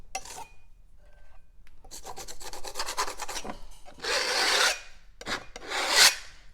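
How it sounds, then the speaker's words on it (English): A brush rasps and scrubs across canvas, skimming a very thin layer of wet white paint tinted with transparent red oxide, in close, repeated back-and-forth strokes with brief pauses between bursts. "I'm going to make a lot of noise skimming."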